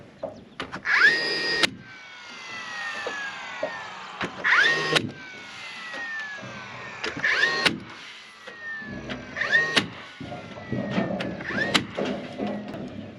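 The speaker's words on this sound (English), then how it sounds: "I'm just using a narrow crown stapler." A narrow crown stapler drives staples in a handful of sharp, well-spaced snaps, with shuffling handling noise between shots and no talking.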